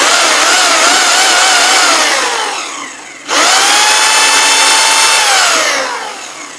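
A repaired rotary hammer drill revs up close and loud in two long runs. Each run is a high whine that winds down, with a brief stop between them. No one speaks.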